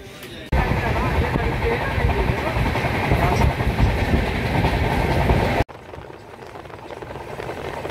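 A Kolkata to Amritsar express train rolls steadily along the tracks with a loud, continuous rumble and a faint clatter of wheels. The noise cuts out abruptly near the end, leaving a quieter background.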